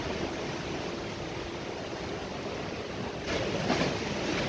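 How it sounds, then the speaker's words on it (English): Wind-driven sea with 2 to 4 foot waves and whitecaps at the end of Bournemouth Pier in a west-southwesterly breeze gives a constant broad surf wash, swelling slightly louder near the end. "2 to 4 foot waves."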